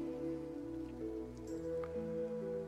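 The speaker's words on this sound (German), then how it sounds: "Und wir sehen ja auch, es regnet offensichtlich." Rain falls in the video game Moonring as a soft, steady patter, heard faintly against sustained tonal game music.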